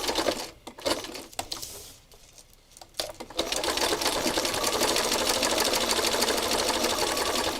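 A sewing machine runs a straight stitch beside trim, starting with a few short, uneven bursts and handling clicks, then settling into a long, steady, close whirr of rapid needle strokes.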